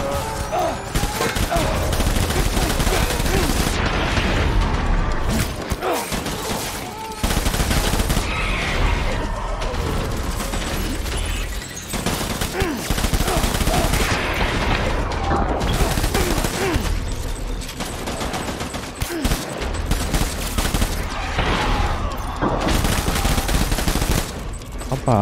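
Assault rifle fire in the video game Death Stranding rattles in dense, sustained bursts. Short gaps break it near 7 and 12 seconds, and a horse whinnies and clatters through the loud, chaotic mix.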